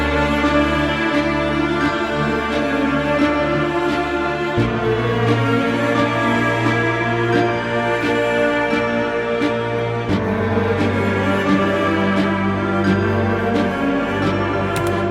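A sustained cello melody with lush reverb floats over a full orchestral backdrop, long bowed notes shifting slowly, loud and continuous with no voices.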